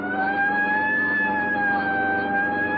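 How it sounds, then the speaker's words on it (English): Police car siren from an old-time radio police drama, a steady loud wail with strong harmonics that holds and slowly shifts pitch throughout, with no talk over it. "I'll hit the siren."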